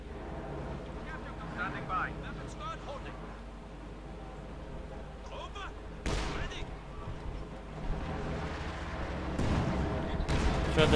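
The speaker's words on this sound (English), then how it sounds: "Further artillery fire there, Panzer 4 joins in, firing from a distance." Artillery and tank cannon fire in the Company of Heroes 2 strategy game, a few scattered booming shots with a heavier burst near the end, heard under a caster's ongoing commentary.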